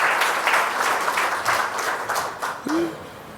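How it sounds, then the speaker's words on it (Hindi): An audience applauds to honour a renewable-energy company team at a brand launch event, dense steady clapping throughout with a faint brief voice near the end. "जोरदार तालियां बजाकर हम उनका सम्मान करेंगे।"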